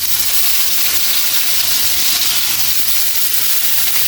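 Chopped tomatoes and onions sauté in a hot pan with a loud, steady sizzle and hiss that runs continuously, close up and with no talking.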